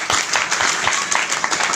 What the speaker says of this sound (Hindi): टीसी छाबड़ा के लिए जोरदार ताली बजा दीजिए